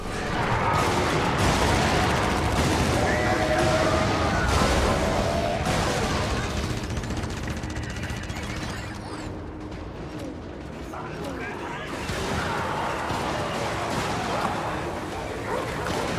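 Grenade explosions from the Helldivers video game, a dense run of booming blasts with busy battle noise that dips briefly midway before surging again, loud and continuous throughout.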